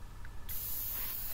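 An airbrush sprays light grey paint onto a 1:200 Trumpeter Titanic model deck house, starting as a soft hiss and then opening into a steady, bright airy spray that continues to the end.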